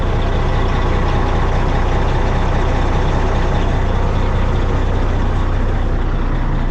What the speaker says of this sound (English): I will let it run and build up the air pressure because yeah, these things are hanging off these airbags.